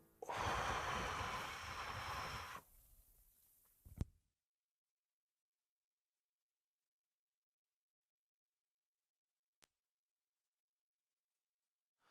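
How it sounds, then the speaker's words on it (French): A deep breath drawn in during a guided breathing exercise, loud and close for about two and a half seconds, trailing into a softer exhale and a brief click before long silence. "Alors, une inspiration."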